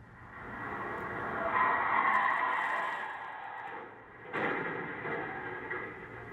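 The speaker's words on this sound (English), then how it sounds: "You can hear the truck's driver hit the brakes as it goes over the curb and crashes into the front of the house." A truck at night brakes hard, skids over a residential curb and crashes into the front of a house; faint, distant tire noise swells, dips, then a sharper burst follows, captured from a neighboring security camera.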